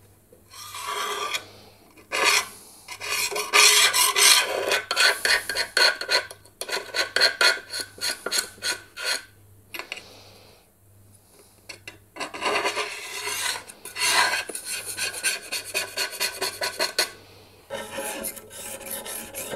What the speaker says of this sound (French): il faut nettoyer la tranche, comme ceci, pour enlever tout ce qui est silicone résiduel.